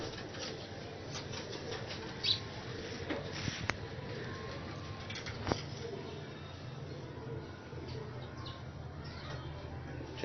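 Pigeons, Ali wale and Imam Din flying breeds, shuffle and flutter in a Lahore breeder's loft, giving soft, scattered wing rustles and faint coos over steady background noise, with a few sharper clicks and a voice faintly present.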